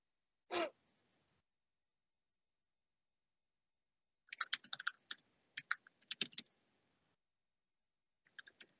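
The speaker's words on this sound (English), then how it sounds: "not enough typing links into the chat box here" Bursts of quick computer keyboard typing, faint and close, come in short clustered runs after a single sharp breath or gasp, with long quiet gaps between.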